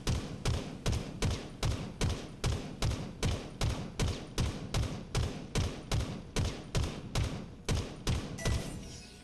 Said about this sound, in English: You can see I'm just shooting the whole time, just following it around.